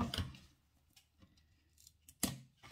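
Scissors snip a very thin red strip, about 3 mm wide, while making a paper lantern: a couple of faint, close cuts with soft handling clicks in a quiet room.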